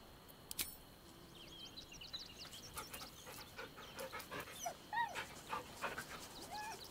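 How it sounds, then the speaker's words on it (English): Dog in a video game making panting, whimpering noises while being petted, a steady run of soft huffs and whines over faint background hum. "I've never pet a dog who makes noises like that while I'm petting them."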